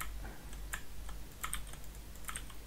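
Computer keyboard typing while code is edited, a few short bursts of light key clicks in a quiet room, close and fairly soft, with no talking.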